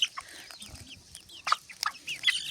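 Chicks pecking at corn in a Ukrainian farmyard give off rapid, scattered cheeps and soft clucks nearby, with sharp little peck-like taps mixed in throughout.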